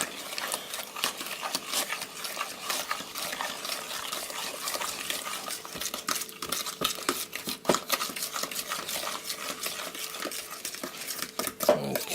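Cake batter of eggs and other ingredients being beaten in a bowl, a steady run of clinking, scraping strokes from a utensil against the bowl, close and continuous, with a sharper knock near the end.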